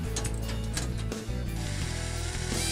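A ratchet clicks rapidly and steadily while bolts are removed from a Westinghouse DHP circuit breaker, the close mechanical clatter continuing with brief pauses under a constant machinery hum.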